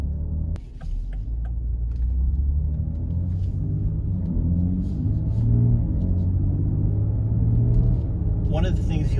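BMW X3 M Competition cruising on a public road: a deep, continuous engine and road rumble heard from inside the cabin, steady with slight swells, and a sharp knock near the start.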